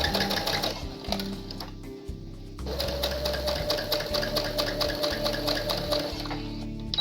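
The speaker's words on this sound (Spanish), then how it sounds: "y empezamos a coser" A sewing machine runs steadily, stitching fabric bias tape, with a loud close mechanical whir that pauses briefly near the start and then continues without a break.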